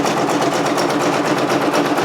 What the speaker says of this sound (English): it's finishing up the zigzag stitch, and then it's going to start doing its actual satin stitch